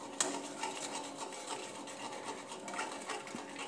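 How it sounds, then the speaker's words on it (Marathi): A spoon scrapes and rubs steadily through a coconut biscuit mixture in a pan over low heat, a soft, continuous stirring close by with no voices. "एका हातानं टाकून एका हातानं असं ढवळत राहायचं, जेणेकरून गुठळ्या बनणार नाहीत"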